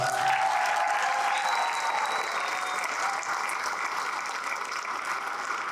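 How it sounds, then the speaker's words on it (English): An audience at an anime convention panel breaks into steady applause, a dense wash of many hands clapping at once that holds evenly throughout and eases off only slightly toward the close. "Give them a round of applause."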